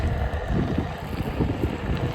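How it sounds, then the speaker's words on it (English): Strong wind buffeting the microphone during an outdoor Onewheel ride on a snowy day, a loud, continuous low rumble and roar with gusting swells throughout. "Ooh, and it's windy."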